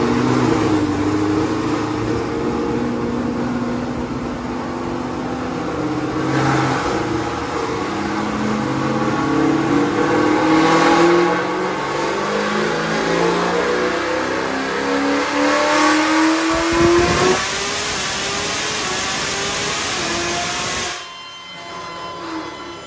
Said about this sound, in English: I'll give you guys a startup so you guys can hear what this cam sounds like